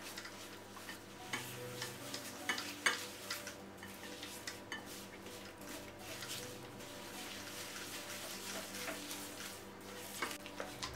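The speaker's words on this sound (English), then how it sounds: "cream the butter sugar together" Butter and sugar are creamed together in a bowl for blueberry muffins, giving quiet repeated scraping and tapping strokes of a utensil against the bowl, faint and continuous, with no voices.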